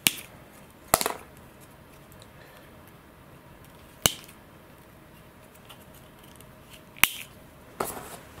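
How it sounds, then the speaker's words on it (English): Sharp cutting snips of model parts being clipped off plastic sprue trees while building an Eternity F5J glider, four distinct cuts spaced a few seconds apart against a quiet room. "Just going to cut off these parts trees."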